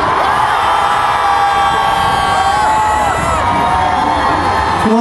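Fan club crowd at an outdoor festival concert cheers and shouts loudly and continuously, a dense roar of voices with whoops that holds steady throughout.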